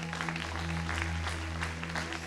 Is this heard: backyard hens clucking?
no